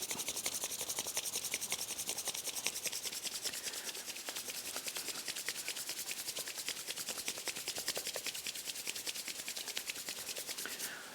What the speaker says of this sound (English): just intensely rub these two hands together for a minute, like this